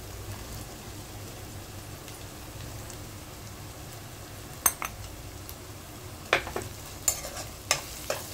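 Dried small fish tossed into hot ginger garlic paste in a pan, giving a soft steady sizzle with sharp scraping clatters of a stirring spoon near the end.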